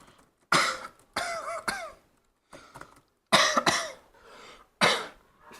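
A man coughs in several harsh bursts, some in quick doubles, separated by short pauses and throat-clearing sounds, heard close and alone.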